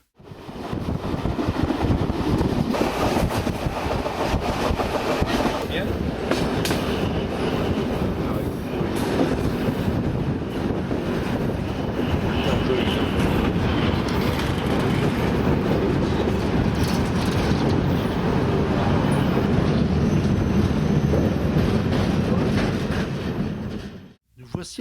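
Train on the Bar–Belgrade line in Serbia, running without stopping past Brodarevo station: a loud, continuous rumble of wheels and carriages with wind buffeting the microphone throughout.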